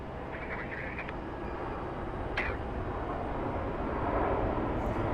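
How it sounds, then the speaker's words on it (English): An airliner landing at Phoenix Sky Harbor airport, heard as a steady broadband engine roar and rumble from a distance, swelling slightly toward the end. "Let's see how smooth this landing is"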